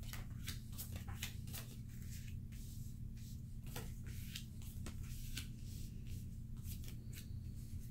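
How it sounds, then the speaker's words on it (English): A tarot card deck being cut and handled, a series of faint, crisp card snaps and flicks over a steady low hum, quiet and close with no talking. "I'll just cut it like this and we're good."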